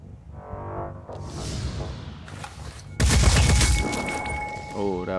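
Gunfire in the turn-based tactics game Phoenix Point, a sharp burst of shots followed by a heavy, loud blast and impact debris, with a voice speaking briefly among the effects.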